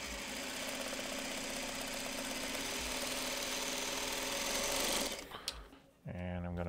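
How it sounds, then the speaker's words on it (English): A sewing machine stitches quilt fabric for half-square triangles, running steadily and fairly loud for about five seconds, then stopping with a few clicks before a brief low buzz resumes near the end. "So again, just sewing 1/4 inch away from the center."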